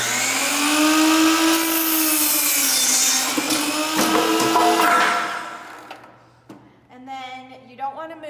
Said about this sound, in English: You just pull the trigger and slowly go through the wood.